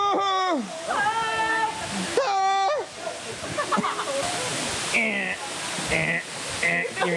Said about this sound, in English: You're in a waterfall.